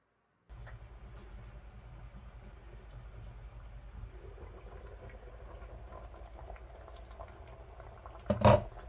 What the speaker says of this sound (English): I put the lid on and leave it to simmer for an hour, hour and a half